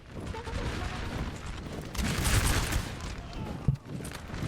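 Musket volleys crackle through a Napoleon: Total War 3 battle at Aspern-Essling, a dense rolling fusillade of many shots blending into a continuous roar with a sharper burst near the end and voices talking over it.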